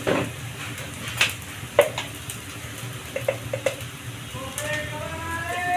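Onions fry with turmeric in a pan, a soft steady sizzle with a few clinks of a spoon against the metal, while a person talks over the cooking.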